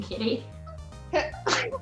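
A person sneezes sharply, two quick bursts close together, in a room with people talking just before and around it.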